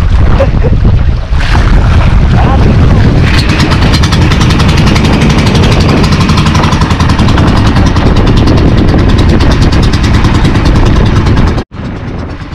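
Loud, constant roar of wind and big crashing sea waves against a fishing boat, buffeting the microphone without a break, with an engine rumbling underneath.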